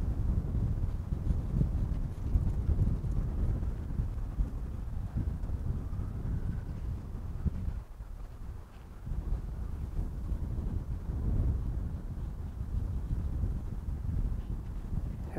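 Wind blows outdoors, a continuous low rumbling roar buffeting the microphone with gusts that briefly ease midway before building again.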